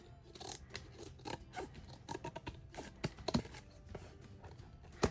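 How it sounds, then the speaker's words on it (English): Scissors snip the edges off a journal spine, a run of close, crisp cuts at an uneven pace with quiet pauses between them and no talking. "So I'll just go in and just cut off any edges that make me uncomfortable."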